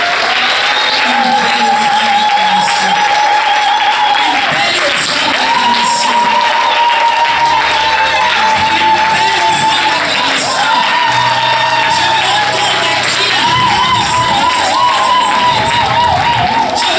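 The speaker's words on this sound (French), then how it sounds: "Est-ce qu'on peut donner une acclamation au Seigneur?" A church congregation applauds and cheers together, with whoops and shouts rising over steady clapping throughout, loud and close, with voices calling out within the crowd noise.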